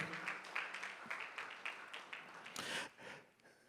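An awards ceremony crowd at a youth business awards gives a round of applause, a dense patter of clapping that swells near the end before fading, with a voice faintly underneath.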